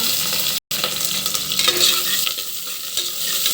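Onion and curry leaves fry in hot oil in a pan with a continuous bright sizzle while a spoon stirs and scrapes through them, close and fairly loud, with one brief dropout.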